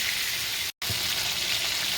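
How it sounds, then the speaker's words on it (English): Green beans fry in a pan with a steady, loud, close crackling sizzle, broken by a brief silent gap before the sizzle resumes unchanged. "that's when you're going to fry your green beans."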